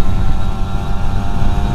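A Yamaha Fiz R motorcycle with a bored-out stock exhaust runs steadily close by, a loud continuous engine drone with a deep, rough low end and no talking.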